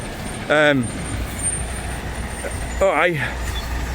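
A truck passing the Skeoch Roundabout in Stirling, Scotland, with a steady engine and road rumble. Two sharp whining or braking sweeps rise over the noise, and outdoor traffic hum continues throughout.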